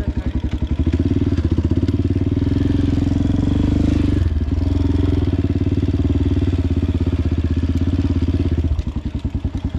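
A motorcycle engine idles steadily close by with an even, rapid thump while being parked on a mountain road toward Basho Valley, briefly revving near the middle and settling back to idle.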